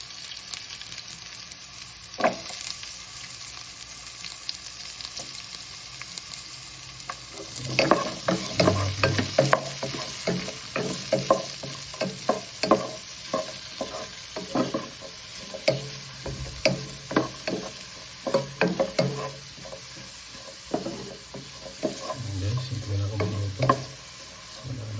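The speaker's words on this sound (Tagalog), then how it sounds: "Tapos na sinito na yung sibuyas at saka luya" Chopped onion and ginger sauté in a pan for chicken tinola, a steady sizzle running throughout with intermittent scraping stir strokes growing busier partway through, close and alone without talk.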